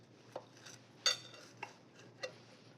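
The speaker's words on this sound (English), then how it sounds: "you cut them just like a pizza, in slices" Crispy cheese frico being cut into pizza-like slices: a handful of sharp, crackly knife strokes against a plate, one louder crunch in the middle, fairly close with no talking.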